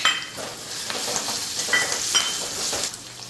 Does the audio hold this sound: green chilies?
yes